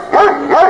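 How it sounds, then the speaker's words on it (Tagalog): A dog gives two quick, loud barks close by, one right after the other, with nothing else around them. "tumatahol yung aso dahil andun ako sa labas"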